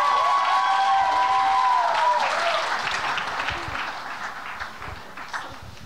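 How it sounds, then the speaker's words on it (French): Audience applause at a regional secondary-school talent show final on the Côte-Nord, a dense steady clapping from a crowd that starts loud, then slowly thins and fades, with a few tonal sounds at the start. "Une bonne main d'applaudissements, mesdames et messieurs"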